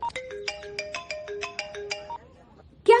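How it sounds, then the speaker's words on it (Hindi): A mobile phone ringtone for an incoming call plays a bright, repeating melody of short tonal notes for about two seconds, followed by a quiet pause and a sudden loud burst at the end. "भैया का फोन आ रहा है"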